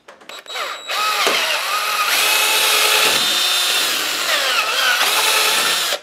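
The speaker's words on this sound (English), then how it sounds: "I do suggest pre-drilling these though to a quarter inch before you start" A power drill spins up after a few clicks and bores continuously at close range, its high whine shifting pitch as it cuts before stopping.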